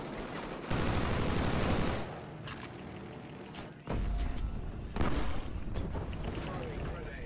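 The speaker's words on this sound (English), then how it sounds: "Firing grenade." Grenade launcher fire in Killzone Shadow Fall team deathmatch multiplayer: loud, booming blasts in separate bursts with the clatter of battle between them.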